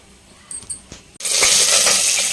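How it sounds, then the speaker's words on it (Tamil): Water soaked with basmati rice is poured off through a strainer, a sudden steady splashing stream after a few small clinks and taps, close and alone. "இப்போ இந்த தண்ணியை வந்து ஃபில்டர் பண்ணி எடுத்துகிட்டு வந்துடலாம்."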